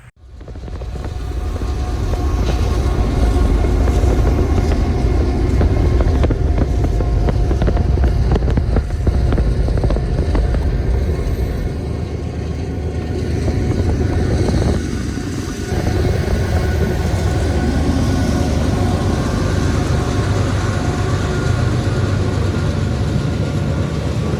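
A train passes near an abandoned railroad yard with low rail bridges, its heavy rumble swelling within the first seconds and then holding loud and close without a break.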